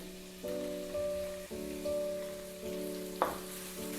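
Finely chopped medium onion frying in a pan, a soft steady hiss of sizzling beneath a droning tonal hum that starts and stops, with one brief clink partway through.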